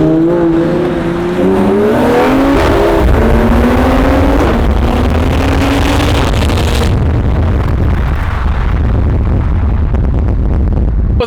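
A Toyota MK5 Supra tuned for around 500 horsepower accelerates hard, engine note climbing through the gears with turbo spooling, very loud and close, then the roar drops off into a rushing drone as it pulls away.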